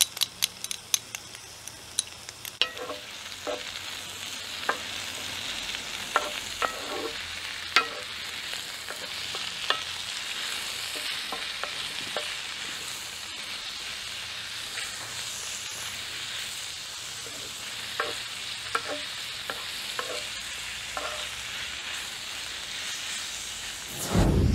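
Garlic frying in a Dutch oven pan, with a steady soft sizzle and scattered clicks and scrapes from stirring throughout, moderately close and alone with no voices.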